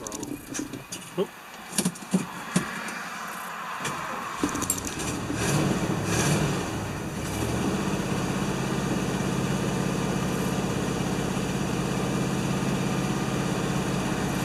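A 1975 Lincoln Continental's engine idles with a rough, steady low rumble while the throttle is feathered, preceded by key jangles and clicks, with a voice talking over it.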